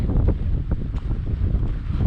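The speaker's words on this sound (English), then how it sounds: "it's very windy up here now." Strong wind on a mountain backpacking trail buffets the microphone in a constant low roar, with gusty rumbles rising and falling throughout.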